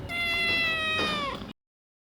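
A kitten gives one long, drawn-out meow with a rising-then-falling pitch, close and clear, ending abruptly into silence.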